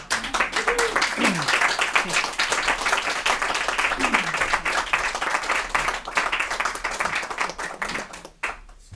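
A house-concert audience welcomes folk musicians with sustained, close, dense clapping, while voices talk and call out over the applause.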